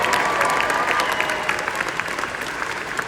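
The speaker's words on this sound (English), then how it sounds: "Can we have a bit more of a round of applause for Lando Norris," Brief, steady round of applause from the Autosport Awards audience for Lando Norris, a dense wash of many hands clapping together with faint crowd murmur underneath.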